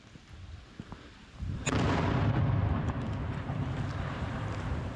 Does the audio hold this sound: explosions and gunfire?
yes